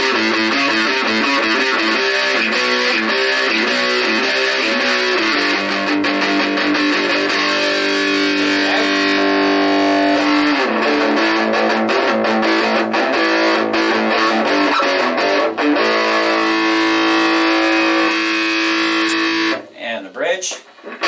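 Electric guitar played through an Acoustic G20 Lead Series amp on its distortion channel, a continuous run of sustained, fairly clean-edged distorted chords and notes that cuts off near the end.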